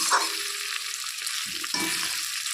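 Black cumin seeds tempering in hot oil crackle and sizzle steadily up close, with a brief burst of spluttering midway and no voices.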